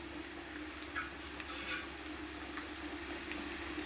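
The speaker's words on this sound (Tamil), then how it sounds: "பச்சை மிளகா காஞ்ச மிளகா போட்டு தாளிச்சிட்டு" Green chillies, dried red chillies and shallots tempering in hot oil for a Tamil blood fry, a soft steady crackle with a few brief stirring scrapes, fairly quiet and alone.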